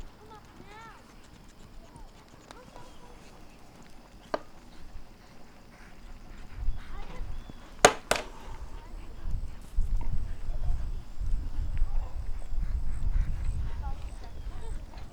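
A young filly is walked under a rider during her first days of pole bending training, with soft clip-clop hoofbeats and low rumbling movement under someone talking.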